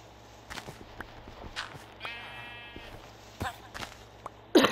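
A sheep bleats once, short and moderately clear, over quiet game ambience on a farm-life video game, with faint footstep-like taps and clicks around it.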